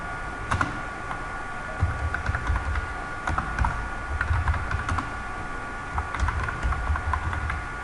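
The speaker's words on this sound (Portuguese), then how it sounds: "Vou escrever no texto aqui, Eugênio." Someone types on a computer keyboard, producing quick, uneven bursts of close, crisp keystrokes that continue throughout with no talking.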